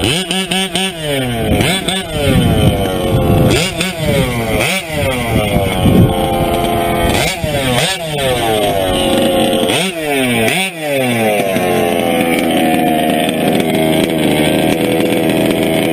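Gas engine of a TLR 5B large-scale RC car with a reed engine running lean, a loud buzzy two-stroke note that revs up and falls back repeatedly in sweeping blips, then settles into a steady high idle.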